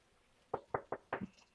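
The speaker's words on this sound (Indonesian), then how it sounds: "Kita ketok, ada orangnya atau tidak ya?" A door being knocked on, four quick raps and a softer fifth, close and fairly quiet against a faint background hiss.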